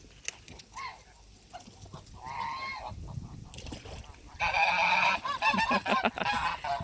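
Geese honking repeatedly on a farm as a gander preens after bathing, with loud, harsh calls building and overlapping in the second half, some nearby and clear against a background of water and bird noise.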